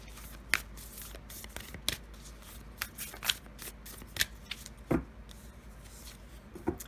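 Oracle cards are shuffled by hand in a quiet room, producing soft riffling with repeated crisp snaps and slaps at an irregular rhythm, close and fairly faint.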